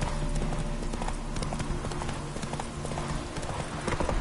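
Steady clip-clop of a horse's hooves at a trot in The Witcher 3: Hearts of Stone, close and continuous over a low ambient background.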